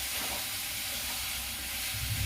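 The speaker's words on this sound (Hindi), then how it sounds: "आलू को लगभग 5 मिनट भून लूंगी" Potatoes fry in a spicy masala in a pan over a medium gas flame, giving off a steady, loud sizzling hiss that never lets up. Nobody speaks.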